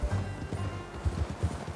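Rhythmic clip-clop of horse hooves at a steady gallop in Red Dead Redemption 2, close and prominent, with a faint murmur in the background.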